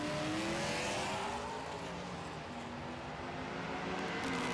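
Chevrolet Camaro drag race cars, old and new, at a PDRA ProStars event, roaring loud and sustained at full throttle from a distance, with a dense engine wash that dips slightly midway before rising again.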